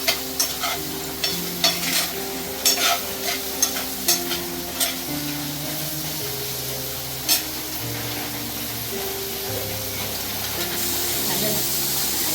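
Spiny gourd (kantola) frying with onion in a pan gives a constant hiss with clustered stirring scrapes early on, under a steady tonal background hum, the scrapes thinning out later.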